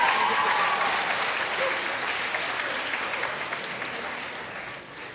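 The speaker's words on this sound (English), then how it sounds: "Can we get a round of applause?" An audience at a local singing competition breaks into sustained applause, a dense wash of clapping that slowly tapers off, with faint voices mixed in.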